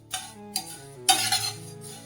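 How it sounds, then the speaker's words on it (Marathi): Poha being stirred and dry-roasted in a kadhai over a medium gas flame, heard as rough, gritty scraping sweeps of a spoon against the pan, close and repeated. "आता हे कढईमध्ये पोहे टाकले तर हे आपल्याला सारखे हलवायचे आहेत."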